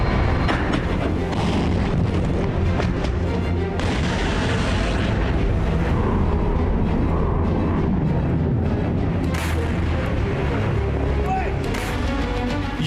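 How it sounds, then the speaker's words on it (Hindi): Russian artillery guns fire in Ukraine, a dense, continuous run of heavy booms and rumbling blasts that fill the clip, with some voices faintly mixed in. "यूक्रेन में रूस की तोपें गरज रही हैं।"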